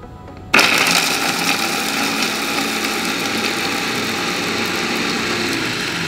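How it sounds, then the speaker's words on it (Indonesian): A Mitotoba CH100 electric food chopper starts abruptly and runs steadily, grinding garlic and candlenuts with a loud, continuous high-pitched motor whir that holds for several seconds. "Ini saya menggunakan chopper dari Mitotoba CH100."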